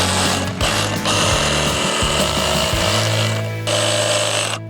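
A power drill whirs steadily with brief pauses and speed changes, close by and loud, as it bores a hole through a house wall for an outdoor tap.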